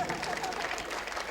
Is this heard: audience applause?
yes